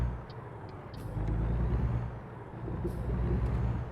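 A truck in a highway drive from Tucson to Show Low gives a couple of sharp air brake hisses over a steady low engine and road rumble, heard from inside the cab with no speech.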